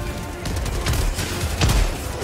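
Rocket explosions in the video game Helldivers 2, heard as a couple of muffled booms with crackling debris over a rumbling battle background, moderately loud and without speech.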